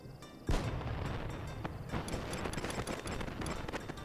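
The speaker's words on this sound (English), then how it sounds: "Hear the fireworks going off? There's some kind of celebration going on right now and again." Festival fireworks in the online game Final Fantasy XI, with a heavy boom at the start followed by a steady run of crackling bursts and pops over a dense, noisy celebration backdrop.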